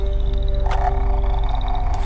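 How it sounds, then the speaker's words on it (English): Frogs croaking outdoors in a dense, loud, continuous chorus of rapid pulsing calls over a steady hum, with no voices. "the frogs could croak and I could croak with them"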